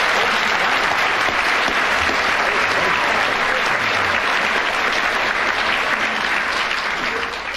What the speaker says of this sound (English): Applause with 12 seconds starting from now.